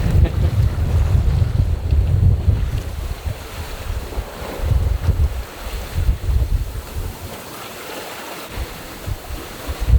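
Sailboat under sail in about 15 knots of breeze on the way south to the Bahamas, with heavy gusty wind buffeting the microphone, rushing water and waves rising and falling continuously.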